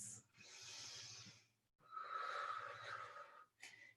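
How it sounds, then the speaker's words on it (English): Slow, deep breaths during a vinyasa yoga practice: a long airy exhale, a brief pause, then a fuller rushing breath and a short final puff, close and soft, with no talk. "3 big breaths."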